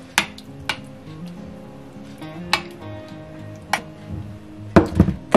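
Spoon stirring soy sauce into kefir in a container: scattered sharp clinks and taps of metal against the vessel at irregular intervals, with a quick cluster near the end, close and fairly loud.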